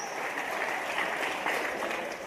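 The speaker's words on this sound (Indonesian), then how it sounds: "Nah yang ini boleh tepuk tangan." Audience applause during an Indonesian religious talk by Ustadz Yusuf Mansur; a soft, even wash of many hands clapping, heard at low level and fairly distant for a couple of seconds.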